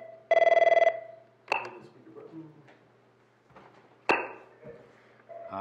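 A telephone rings with one short, loud electronic trill during a township committee meeting taking call-in questions, followed by clicks and handling clatter in a quiet room.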